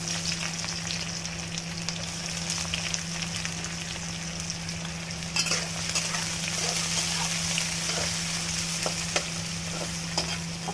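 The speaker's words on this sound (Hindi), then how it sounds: "और इसमें सूखी मिर्च पड़ेंगे, थोड़ा तड़क जाएगा ना थोड़ा।" Dried chillies frying in hot oil with a steady, dense crackling sizzle, close and continuous, with occasional stirring scrapes and a faint low hum underneath.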